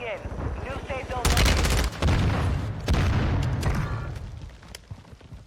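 Gunfire in a battle royale video game: rapid bursts of automatic shots crackle and boom loudly for several seconds, with a few separate sharper reports trailing off toward the end.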